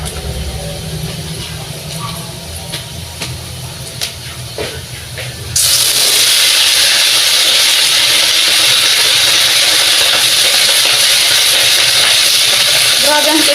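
Oil spatters loudly as vegetables fry in a pan over a low flame for pakbet; faint talk and clatter come first, then a sudden, steady, dense crackling hiss fills the rest.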